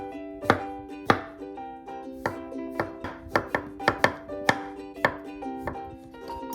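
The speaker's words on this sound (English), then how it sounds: "Cut the stem of the king mushroom to about 20 mm and then cut it lengthwise. Slice it thinly." A knife thinly slices king oyster mushroom stems on a cutting board, with crisp, distinct thuds coming at an irregular but steady pace and close to the listener, set against light background music.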